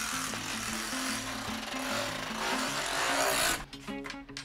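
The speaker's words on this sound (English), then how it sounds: "and simply roll the awning out." A manual RV awning being unrolled gives a steady rubbing, scraping roll of fabric and metal, fairly close and continuous for a few seconds before it breaks into shorter, uneven scrapes.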